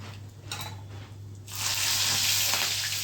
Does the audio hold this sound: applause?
no